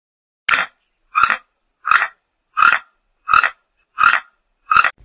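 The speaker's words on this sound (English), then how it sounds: "Toucan." A toucan gives seven evenly spaced, harsh croaking calls about two-thirds of a second apart, loud and close with silence between them.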